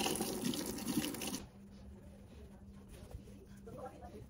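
Water runs from a tap while bleach is rinsed out of hair: a loud, steady gush for about a second and a half, then it cuts off, leaving quiet room noise with a low hum.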